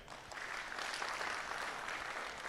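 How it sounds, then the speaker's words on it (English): An audience at a data festival event applauds committee members, a steady, fairly quiet wash of many hands clapping throughout with no pause. "So can we clap for them?"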